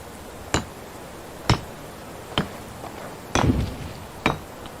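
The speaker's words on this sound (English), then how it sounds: "I just hit the horse in the head with a hammer." Hammer blows striking a horse's head in the video game Medieval Dynasty, five sharp separate knocks spaced about a second apart over a quiet ambient background, with no talk.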